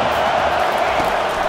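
A stadium crowd roars in the College Football 25 video game, a steady, loud wash of cheering and whooping that fills the whole moment.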